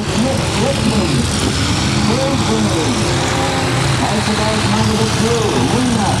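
Demolition derby cars with engines running and wheels spinning in mud, a continuous rough engine drone with wavering revs, loud and close under a commentator's voice.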